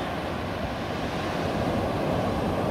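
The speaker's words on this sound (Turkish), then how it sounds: "Karşı tarafta dalgalar yavaş yavaş kıyıya geliyor." Sea waves roll onto a sandy beach at night in Taşucu, a steady, loud wash of surf mixed with wind noise, continuous with no voices.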